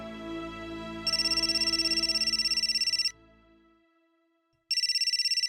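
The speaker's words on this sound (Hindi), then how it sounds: "अकीला बहन का फोन।" A loud electronic phone ringtone plays in bursts, cutting off briefly before starting again, with a quiet melodic tone underneath at the start.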